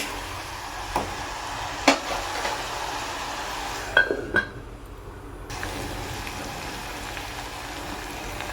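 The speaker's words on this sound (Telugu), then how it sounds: "ఉల్లిగడ్డ ముక్కలు మగ్గుతున్నాయి" Onion pieces cooking down for a Telugu egg curry, giving a soft, steady hiss and crackle from the pan. It runs continuously at low volume, with a few faint clicks and taps along the way.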